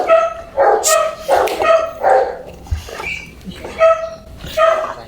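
Several Rottweilers bark loudly and close by in short repeated bursts, with a few higher yips mixed in between the barks.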